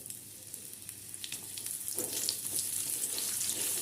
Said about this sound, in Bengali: আমগুলো দিয়ে একটু ভেজে নেব।